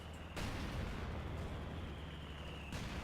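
Artillery volley in Company of Heroes 2, a sustained rumbling barrage of explosions that swells suddenly and holds loud with deep low-end roar before cutting off near the end, no talking.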